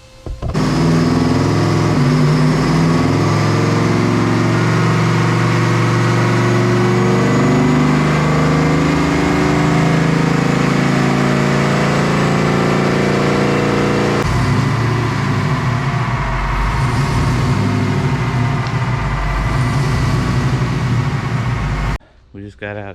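A supercharged M122-blown car runs on a chassis dyno, its engine droning loud and steady as it drives up to speed, then the note shifts and eases as it coasts down before cutting off near the end.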